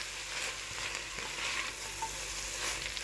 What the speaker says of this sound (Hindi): मटर डाल के इसको फिर से मिक्स करेंगे।